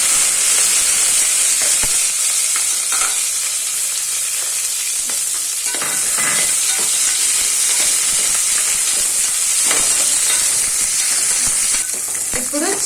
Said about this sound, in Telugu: ఒక 2 నిమిషాలు దాన్ని వేయించుకోండి ఆయిల్లో.